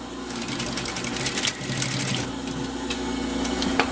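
A sewing machine backstitches a synthetic crossbody bag, running steadily and close throughout the short stretch with a continuous mechanical whir and rapid needle rhythm, no voice over it.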